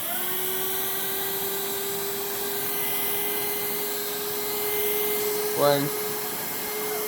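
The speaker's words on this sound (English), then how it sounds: "we're going to see how well this Hoover React cordless works" Hoover React cordless vacuum cleaner running close by with a steady high-pitched motor whine throughout, while a voice briefly speaks near the end.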